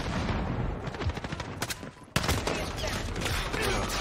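Rapid automatic gunfire rattles through a Modern Warfare match, dense loud bursts with a brief lull before a sharp close blast and renewed firing.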